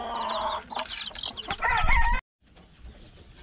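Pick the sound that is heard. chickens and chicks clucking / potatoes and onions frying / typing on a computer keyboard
chickens and chicks clucking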